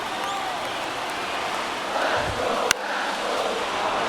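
Simulated baseball stadium crowd in the MLB The Show 23 video game during a tense ninth inning, a steady murmuring roar that swells slightly midway with a brief sharp crack, no clear talk.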